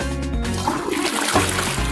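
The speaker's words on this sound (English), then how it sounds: "Why isn't it flushing?" A toilet flushes with a steady rushing, gurgling wash of water, loud and close, filling the whole short moment.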